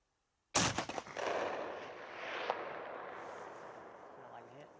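A single loud rifle shot fired from a cold bore on an outdoor range in fog, a sharp crack at the start followed by a long rolling echo that fades slowly over several seconds.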